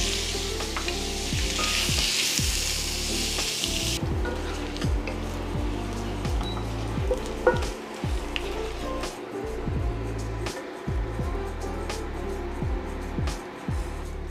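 Bacon frying in a pan, a steady loud sizzle with a stronger hiss at first, under repeated sliding strokes and a low background drone.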